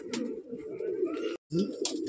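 A pigeon in a breeding loft coos in low, rolling throaty bursts close by, with a short pause before the cooing resumes.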